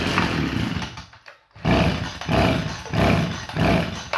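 A small gasoline engine with a carburettor fault runs on the choke, a loud, rough buzzing roar that dips briefly into near silence around the middle and then surges back in uneven pulses.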